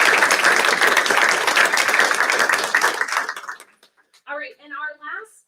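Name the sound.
audience applause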